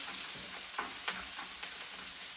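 Scallop fried rice sizzles steadily in a hot pan, with soft scraping and stirring strokes breaking through the constant close frying crackle.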